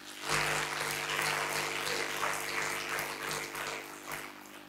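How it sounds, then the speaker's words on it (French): An audience in a church applauding choir members at the choir's 40th anniversary celebration in Songon, a steady wash of many hands clapping throughout, moderately loud and without speech. "On les acclame."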